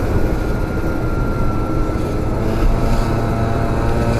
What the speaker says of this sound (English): the bike would appear to be running a little bit lean